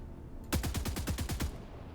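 Automatic rifle fire from a new weapon in the Helldivers 2 video game, shot into the air on regular auto mode at normal rate: a steady burst of about nine rapid, evenly spaced, loud shots lasting about a second, then a faint tail.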